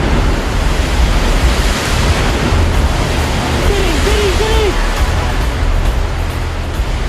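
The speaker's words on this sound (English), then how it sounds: "A wall of water swamps beachside villas, hotels and villages." Tsunami wave surging onto the Thai shore and swamping beachside villas, hotels and villages, heard as a loud, continuous roaring rush of water with no break. A few faint voices can be heard within the roar.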